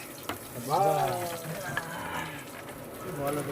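Whole cumin seeds, dried chillies and bay leaves hitting hot oil, a sizzling hiss with crackles, mixed with a voice talking and a brief watery clatter.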